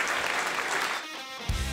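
A comedy club audience applauds after a Polish stand-up roast battle, a dense steady clapping that fills the room and then thins out near the end, where a voice begins to speak.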